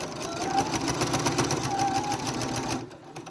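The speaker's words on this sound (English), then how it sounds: "All right, so we've sewn this half of the interior." A sewing machine stitches a fabric bag, running in a continuous fast mechanical whir with rapid needle ticking, close and steady before stopping abruptly near the end.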